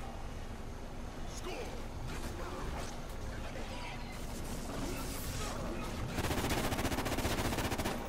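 A minigun turret fires in COD Ghosts Extinction. A dense, fast stream of shots rises over busy game noise toward the end, fairly close and steady, and players talk throughout.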